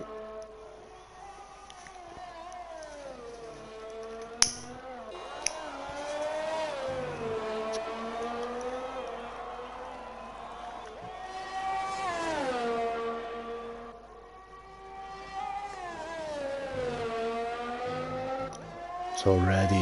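Formula 1 cars in a racing video game rev and whine through gear changes as one begins a lap on soft tyres, engine pitch rising and falling repeatedly under continuous commentary.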